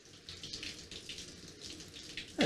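A HOPLUS ionic filtration shower head sprays water in its gentle wash mode, producing a soft, steady hiss of spray that pulses slightly, then rises into a louder splash right at the end.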